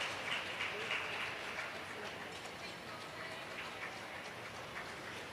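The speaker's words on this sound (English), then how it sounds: "Let's have a round of applause for Sarnia, please." A hall audience applauds the Sarnia finalists at an OHF final, a soft steady wash of many hands clapping heard from a distance, fading slightly toward the end.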